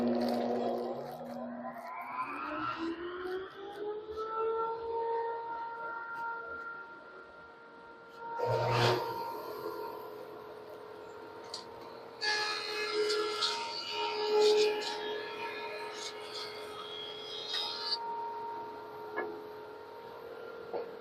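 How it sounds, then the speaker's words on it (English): Dust collection system starting up in a woodworking shop while making a cutting board, its motor whine rising over the first few seconds and then holding a steady loud drone, with a brief bang and intermittent clatter of shop noise over it. "let's get the dust collection started. Put on your hearing protection."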